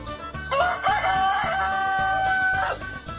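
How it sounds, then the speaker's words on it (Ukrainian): A rooster crows loudly and close by, one long drawn-out cock-a-doodle-doo rising and holding before trailing off, with no talk over it. "Правильно, це півень. Його кукоріку чути ще до сходу сонця."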